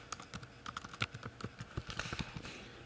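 A kennel name typed on a computer keyboard, a quick, uneven run of close, quiet key clicks over about three seconds.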